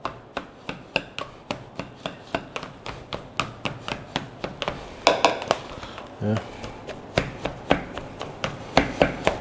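Boiled potatoes being mashed for a cottage pie, left rustic and lumpy: a steady run of close, dull thumps and squashing strikes, about three a second, with a few heavier scrapes midway.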